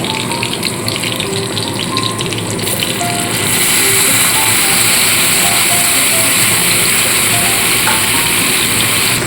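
Seasoned okra going into hot oil for a masala bhindi recipe, a loud, dense, continuous sizzle that swells louder partway through and then holds steady, with no talk.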